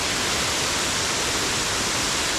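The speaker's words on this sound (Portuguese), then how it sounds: "Essa cachoeira está com o nível da água um pouquinho acima do normal por causa da chuvarada" Waterfall in the Serra de Cunha running higher than normal after heavy rain, a steady, dense rushing roar of falling water that stays continuous and unchanging throughout.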